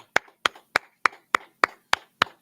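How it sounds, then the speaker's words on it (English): Eight sharp, evenly spaced hand claps ring out alone in a steady rhythm at a Wednesday night law class gathering, each one crisp and close. "Hey, clap it up, Israel."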